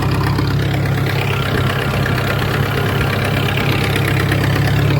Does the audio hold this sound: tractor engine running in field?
yes